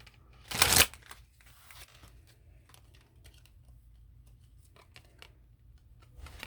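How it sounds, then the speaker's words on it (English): Tarot cards are pulled from a deck and shuffled close by, opening with one loud riffling burst that gives way to soft, scattered card flicks and handling taps against a quiet background. "let's pull some of these higher love cards"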